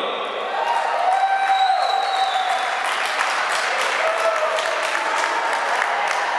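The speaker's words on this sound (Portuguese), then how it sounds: "Senhoras e senhores, eu quero aí o vosso aplauso" Sustained audience applause fills a charity solidarity concert hall as a performer is welcomed, a dense steady clapping that swells in after a brief quiet moment and carries on at full strength throughout.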